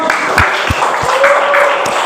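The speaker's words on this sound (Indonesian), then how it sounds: "Ya, tepuk tangan lu dong." A classroom full of students clapping, a short loud burst of scattered claps filling the moment with no one speaking.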